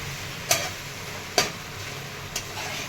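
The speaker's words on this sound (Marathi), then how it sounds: "परतून घेतलेली भेंडी टाकणार आहे छान मिक्स करून घ्यायचं" Fried okra stirred into onion-tomato masala in a pan, with three separate scraping strokes spaced about a second apart over a soft, steady sizzle.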